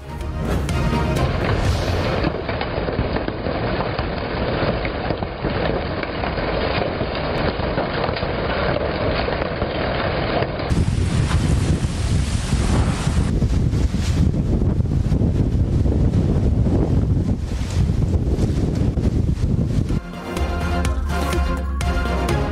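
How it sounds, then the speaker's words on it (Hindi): Strong storm winds lashing Islamabad, a loud continuous roar and buffeting rush that swells and shifts throughout, dense and unbroken with no voices. "तेज हवाओं से दरख्त जड़ों से उखड़कर गाड़ियों पर जा गिरे।"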